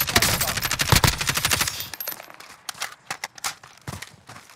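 Rapid bursts of Kilo rifle fire in a Call of Duty video game, dense and loud at first, then sparser, sharper shots trailing off over a quieter background.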